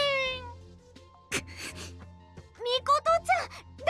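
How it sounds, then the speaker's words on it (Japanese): Cat meows from the Norn9 video game come in a short series of rising and falling cries, loud and close, with brief spoken sounds between them. "猫。"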